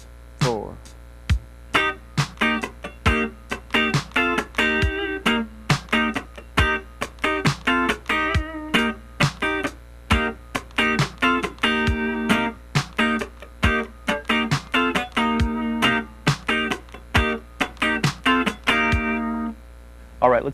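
Funk rhythm guitar part played slowly on a clean electric guitar, with choppy muted strums and short chord stabs in a steady syncopated pattern, close and alone.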